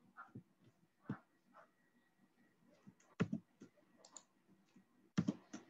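A Ctrl, Shift, N shortcut is pressed on a computer keyboard, giving a few separate soft key clicks with two sharper presses, heard faintly amid quiet room noise and soft murmurs.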